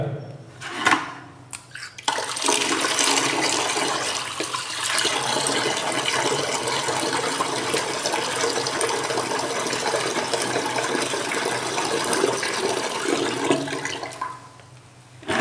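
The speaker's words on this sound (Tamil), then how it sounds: "இன்னும் கொஞ்சம் தண்ணியை நம்ம சேர்த்துக்கிறோம் குழாயில்" Water gushes steadily from a tap into a container, a continuous rushing splash that runs for several seconds before cutting off.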